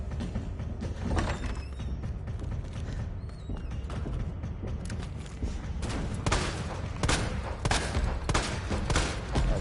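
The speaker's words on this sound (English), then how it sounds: "right now I'm just goofing around in regular difficulty with an unlimited ammo MP5 shooting Mr. X in the face" Rapid MP5 gunfire with unlimited ammo is aimed at Mr. X in Resident Evil 2, steady automatic bursts of sharp shots rattling on for the whole stretch, fairly loud and close, with mechanical clanks between.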